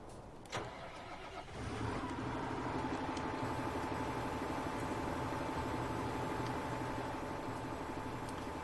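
A tractor engine in Farming Simulator 19 cranks briefly, catches, and settles into a steady mid-pitched idle that holds for several seconds with no talking over it.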